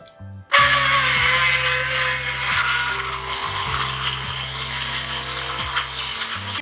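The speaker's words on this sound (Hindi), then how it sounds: "अब हम इसको मधानी से ग्राइंड कर लेंगे।" An electric hand blender grinds cooked chana dal (split chickpea lentils) with meat, a steady buzzing motor whir that runs loud and close for about six seconds with small dips in pitch as it churns through the thick mixture.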